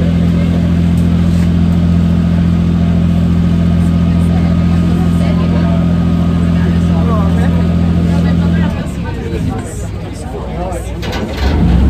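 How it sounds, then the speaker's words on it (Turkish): A car engine held at a steady, loud drone with strong low hum as the driver gently eases onto the gas on a Berlin outing, then the tone shifts and roughens near the end as it picks up speed. "Kaptan burada yavaştan gaza basıyor."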